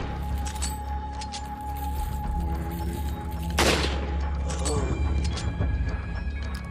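A single loud gunshot burst in Resident Evil 4 cracks out mid-clip over a steady game soundscape, followed by a short clatter and faint rattling.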